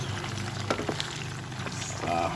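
Ripe bananas fry in oil in a pan for maruya fritters. A steady, moderately loud sizzle carries through the clip with a few small pops and light clatters, and no one speaks.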